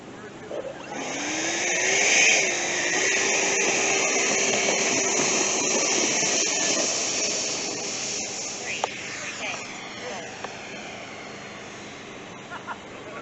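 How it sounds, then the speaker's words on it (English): A Flex Innovations F-100D 90 mm electric ducted-fan RC jet takes off with half flaps, giving a steady loud whooshing turbine whine that swells and then holds, with a faint voice near the end. "I'm going to try a half flap takeoff."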